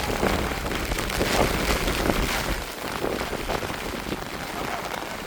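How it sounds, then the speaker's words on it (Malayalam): Steady rain falls at a hilltop viewpoint on Paithal Mala in Kannur, a dense, continuous hiss of drops with some wind noise running the full length. "നല്ല മഴ തുടങ്ങിയിട്ടുണ്ട്."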